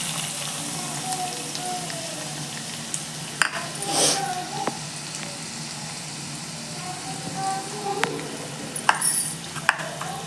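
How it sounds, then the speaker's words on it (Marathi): Onion sizzling in hot oil with cumin in a kadhai, a soft steady frying hiss under faint clinks of a spoon against the pan. "कांदा घालून घेऊया."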